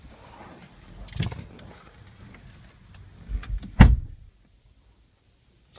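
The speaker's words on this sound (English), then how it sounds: "you can tell as soon as I shut the door when I'm inside" A car door on a 2017 Lexus RX450h F Sport SUV thumps shut from inside the cabin. A softer clunk comes first, then one solid, well-damped slam, followed by near silence.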